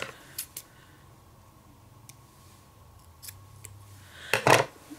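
Scissors trim the bottom of an Erin Condren planner sticker with a few quiet, close snips: two light clicks early on and a firmer double cut near the end, alone in a quiet room.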